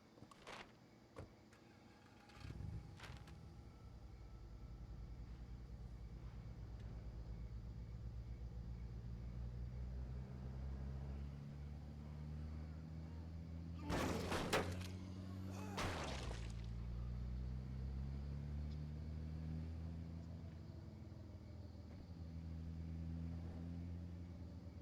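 Car driving in State of Decay, a quiet, low engine drone rising and falling in pitch as it shifts and accelerates, broken by a few sharp swishes and thumps.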